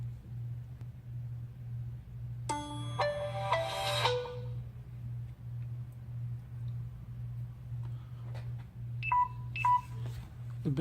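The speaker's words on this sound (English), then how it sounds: "and turn the phone on." A Samsung Galaxy Note 4 phone powers on with a short melodic startup chime of bright stacked tones, heard close over a steady low electrical hum. A few faint beeps follow near the end.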